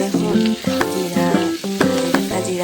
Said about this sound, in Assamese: তাৰপিছত মই জিৰাকেইটা ভাজি ৰাখিলোঁ